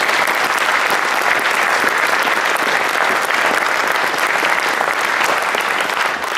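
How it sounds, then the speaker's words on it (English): Steady, loud applause from a crowd at a 2018 school graduation ceremony, sustained dense clapping throughout without a break. "Another big round of applause."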